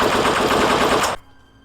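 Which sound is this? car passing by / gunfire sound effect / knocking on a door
gunfire sound effect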